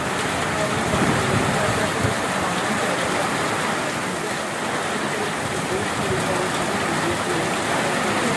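Heavy rain falls in a village as a steady, dense wash of hiss that never lets up, with voices talking under the downpour.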